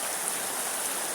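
A clear stream of water flows steadily outdoors, its broad, even rushing continuing without a break, close and moderately loud, with no talking.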